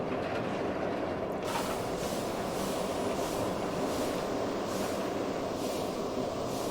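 A roller coaster train runs along its track in the Planet Coaster game as a continuous rumbling roar with faint rhythmic clatter, steady and fairly loud throughout.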